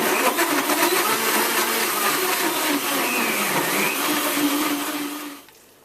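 A blender running on high, blending a chocolate smoothie with chocolate syrup; a loud, steady whirring roar that holds for several seconds alone, then cuts off abruptly near the end.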